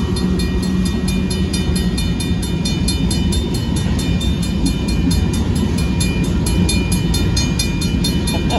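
A northbound Union Pacific mixed freight train rolls past at Oltorf Street in Austin, Texas, a loud, close, continuous rumble of wheels and wagons with faint rhythmic clicking over the rails.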